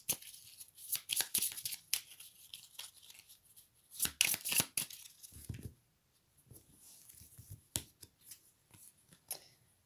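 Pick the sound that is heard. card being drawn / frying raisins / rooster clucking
card being drawn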